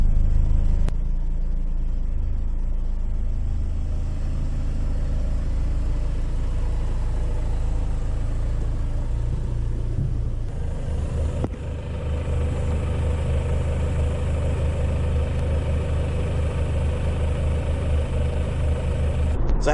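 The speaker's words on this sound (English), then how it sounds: "We're cruising down the highway doing about 60 miles an hour." A PT Cruiser rolls along a highway at about 60 mph, giving a steady, continuous road and engine rumble with a low drone throughout and no talking.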